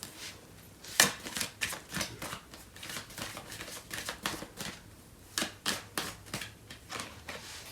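Tarot cards being shuffled by hand, a run of quick papery riffles and soft slaps in an uneven rhythm, close and fairly quiet with no voice over them.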